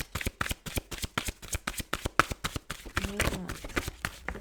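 Tarot cards shuffled in a steady run of crisp riffling taps, close and fairly quiet, with a brief low hum toward the end.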